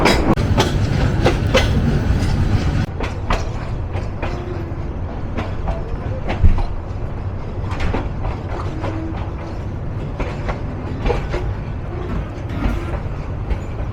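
Tista Express passenger train running on the rails after passing Howrah Express, with a steady loud rumble and rhythmic clickety-clack of wheels over joints, occasional sharper clanks, continuous throughout.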